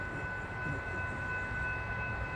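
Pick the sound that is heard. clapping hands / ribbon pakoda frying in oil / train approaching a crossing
train approaching a crossing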